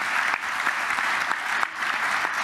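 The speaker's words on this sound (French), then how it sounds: "Le public t'applaudissait pour te réchauffer un peu Isabelle" A live audience applauds steadily throughout, dense continuous clapping with a few sharper swells, recorded fairly close and with no voices.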